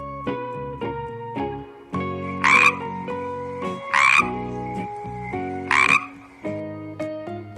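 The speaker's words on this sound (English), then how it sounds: "Frog." A frog croaks in a slow repeated pattern, three or four loud rasping calls spaced about a second and a half apart over a steady low-pitched background drone.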